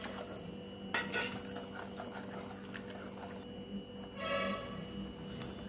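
Ground almond powder being stirred in a bowl, with soft scraping and light clinks of a utensil against the bowl, quiet and close, with a few sharper taps.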